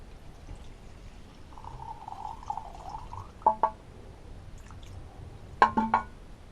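Stale old fuel is tipped out of a Hayter Hawk lawnmower carburetor, a short liquid trickle and pour followed by a few sharp knocks and splashes as it drains, faint and close with no talking.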